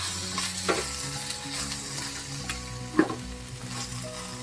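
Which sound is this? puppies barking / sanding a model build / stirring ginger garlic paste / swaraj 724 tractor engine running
stirring ginger garlic paste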